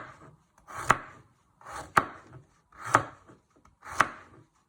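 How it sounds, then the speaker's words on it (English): A knife chops food on a board for sausage casserole in four evenly spaced strokes about a second apart, each a crisp close thud with a short scrape before it, in an otherwise quiet kitchen. "And you want to finally slice it into little pieces."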